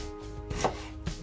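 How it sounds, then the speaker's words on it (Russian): Knife chopping through food on a board, likely ground meat and onion filling for chebureki, with several distinct dull cuts spaced about half a second apart, close and alone with no talk. "вот так вот миленько режу."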